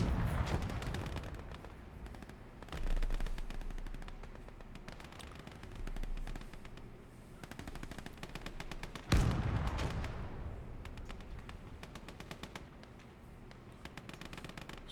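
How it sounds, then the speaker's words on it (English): Sustained gunfire rattles in a Gates of Hell Ostfront battle, with shots incoming from hills: dense, continuous bursts of rifle and machine-gun fire, some near and sharp, others distant, with heavier booms mixed in and no talk. "So we're taking shots from the hills there."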